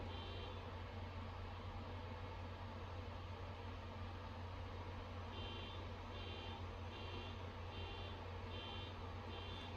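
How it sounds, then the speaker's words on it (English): Faint, high electronic beeps from a car alarm sound in an even repeating pattern over a steady background hum, starting partway through and continuing to the end. "we assume that it's a car alarm"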